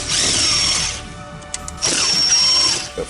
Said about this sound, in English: We're going to go ahead and take these Torx out. It appears it's like a T20 right here.